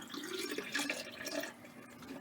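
Water drains from a hand basin in a 2022 Thor Scope 18M motorhome, a quiet close gurgle and trickle running steadily for a couple of seconds.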